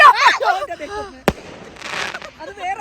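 One sharp, loud New Year firecracker bang in the rain cuts through people talking, followed by fainter crackling and chatter.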